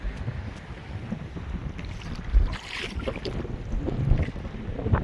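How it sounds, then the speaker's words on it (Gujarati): Wind blowing over a fishing boat out at sea, steady gusty buffeting against the microphone with low rumbling boat noise beneath. "અહીંયા બારે પવન લાગે છે"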